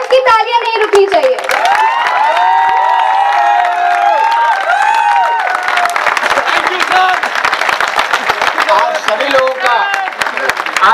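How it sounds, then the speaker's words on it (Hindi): An audience at a live comedy show claps and cheers loudly and continuously, with scattered shouts and a voice, while someone speaks over the ovation for the first half. "और ऑडियंस की तालियां नहीं रुकनी चाहिए।"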